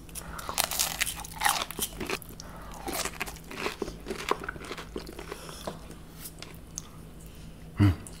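Crunchy french fries dipped in cilantro sauce are bitten and chewed up close, giving repeated crisp crunches and crackles throughout, with no talking.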